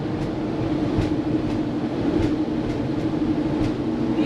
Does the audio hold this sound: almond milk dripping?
no